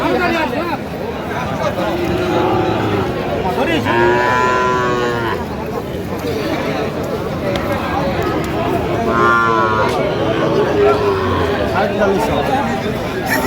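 Sahiwal bull calves moo repeatedly at a busy cattle market in Kurigram, several drawn-out calls rising over a constant hubbub of crowd chatter and nearby voices.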